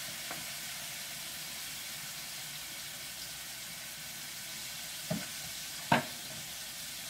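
Potatoes sizzle in a hot pan with a steady, soft frying hiss, broken by a couple of brief scraping stirs near the end, with no talking.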